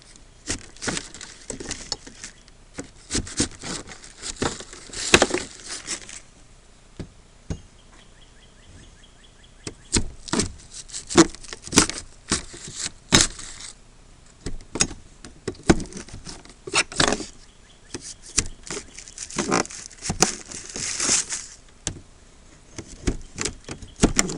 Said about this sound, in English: Let's help us get that paper out too.